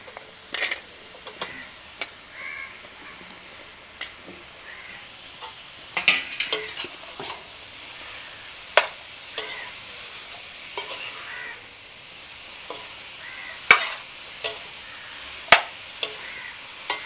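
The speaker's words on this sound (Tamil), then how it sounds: "இப்போ காளானை போட்டுருவோம்." Mushrooms stirred and fried in a pan for a village meal, a steady soft sizzle broken by scattered clinks and scrapes of a utensil against the pan, close and fairly quiet with no talking.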